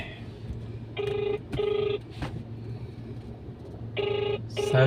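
An outgoing phone call rings back with two pairs of electronic trill tones, each pair short and evenly spaced, under low background hum from a vehicle interior.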